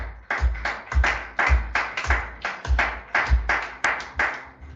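Congregation at a French-language church service claps in rhythm to praise the Lord, about a dozen loud, steady hand claps per few seconds, close and alone with no talking.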